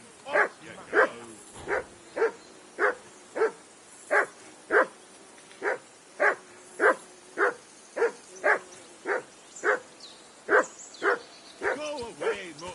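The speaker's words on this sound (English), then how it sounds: "Go away, mutt. You'll get nothing from me." A dog in Kingdom Come: Deliverance II barks persistently in a steady rhythm, about twenty evenly spaced barks at moderate distance, clear over quiet background ambience.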